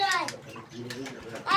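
A pigeon coos in a few soft throaty pulses close by, while a voice and an adult's voice talk over and around it.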